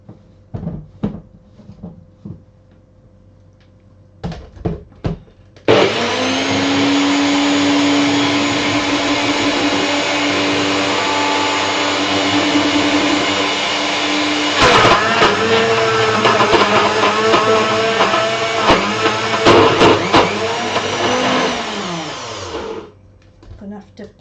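A blender strains to churn a thick vegan cacao, fruit and nut energy ball mixture with cranberries, its motor droning loudly for about seventeen seconds and wavering under the load. Clattering knocks and handling noises come before and during the run.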